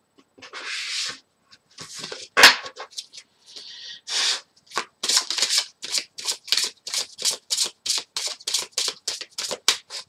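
Oracle cards are shuffled by hand before one is drawn, first a few uneven riffles and slides, then a long run of quick, regular flicking bursts, close and crisp, with no one talking.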